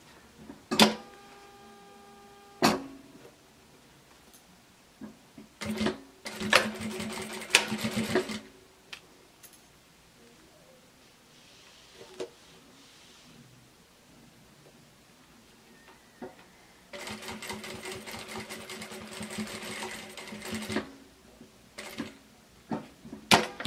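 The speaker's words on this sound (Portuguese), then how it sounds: "E vou costurar." Sewing machine stitching a 3D Christmas fabric mask trimmed with broderie anglaise, running in several short bursts of rapid mechanical stitching separated by quiet pauses and small handling clicks, close and clear with no talk.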